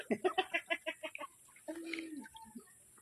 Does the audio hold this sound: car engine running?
no